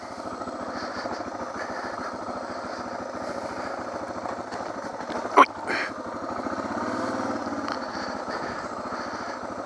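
A DR650 motorcycle rides off-road through the bush, its single-cylinder engine thumping in a steady, rapid pulse at moderate distance, with a short sharp knock midway and no talk.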